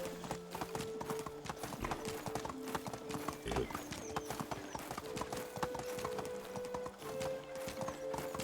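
Steady clip-clop of a horse's hooves in the medieval survival game Medieval Dynasty, a brisk even rhythm up close with a tonal in-game drone underneath.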